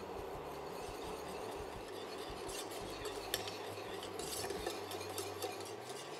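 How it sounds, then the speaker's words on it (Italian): Pectin is stirred together with sugar in a bowl, a faint, continuous grainy scraping and rustling with occasional light clinks, under a steady background hum. "La pectina è meglio mischiarla con lo zucchero per evitare la formazione di grumi."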